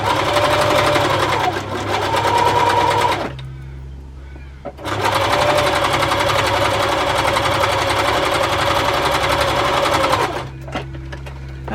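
Sewing machine stitching quilt pieces for a scrap crumb diamond quilt, a steady loud mechanical whir that runs in two long bursts with a brief pause between them.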